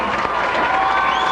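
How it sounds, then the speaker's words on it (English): A high school homecoming football crowd claps and cheers in a steady wash of applause from the stands, loud and continuous for a brief moment. "As the crowd gives London first team a round of applause."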